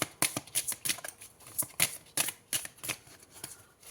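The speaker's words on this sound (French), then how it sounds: "Alors, je prends une dernière carte." A deck of tarot cards is handled as one card is drawn, producing quick, crisp flicking and riffling snaps in a rapid, uneven series, close and clear with no talking.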